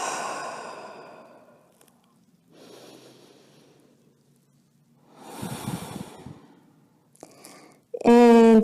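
A deep breath taken during a yoga exercise for back pain, heard as several soft, airy sighing exhalations separated by pauses, ending in a louder, sharper breath at the close.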